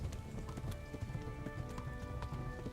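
Horse hooves clop along in the medieval video game Kingdom Come: Deliverance, a faint, steady galloping patter over a soft background bed with no talk.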